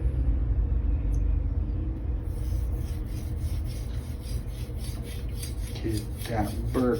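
An Aogami Super steel knife blade scrapes against a whetstone in steady gritty strokes, close and clear, with a short stretch of talk near the end.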